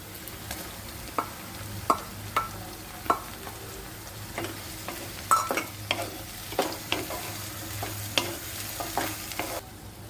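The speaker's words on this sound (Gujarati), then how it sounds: "હવે આપણે અંદર ટામેટા એડ કરીશું।" Tomatoes go into a pan of cooked onions and cumin for paneer bhurji, bringing a steady soft sizzle with a series of sharp stirring clacks and scrapes spread across the whole stretch.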